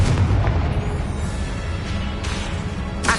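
A Confringo blasting spell going off in Hogwarts Legacy on PS5, a dense booming explosion with a rumbling low end and a sharp crack right at the close, with no voices.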